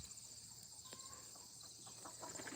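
Chickens squawk and cluck faintly at a distance in a coop, with a steady high hiss of insects or background noise running throughout.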